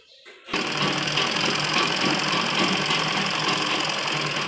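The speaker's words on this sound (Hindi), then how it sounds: "अब हम इसको इस तरह से सीधा करेंगे और एक दबी हुई सिलाई हम इनके ऊपर लगा देंगे।" A sewing machine stitches a pressed-down seam on men's underwear, starting abruptly and then running in a fast, steady, close whirring clatter with no pauses and no talking.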